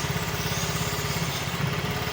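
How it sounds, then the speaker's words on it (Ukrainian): A Yamaha scooter engine with a running fault hits its rev limiter cutoff, a steady fast stuttering drone of rapid low pulses heard up close with no voices. "Мотор йде в відсічку"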